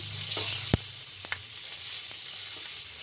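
Chopped coriander stems, ginger and garlic fry in oil with a steady, soft sizzle, broken by a sharp utensil knock and a few light stirring scrapes.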